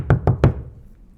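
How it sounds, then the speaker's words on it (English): Three quick, evenly spaced knocks on a door, close and solid, followed by a short silence as they die away, told as part of a spooky Halloween story. "knock at the door"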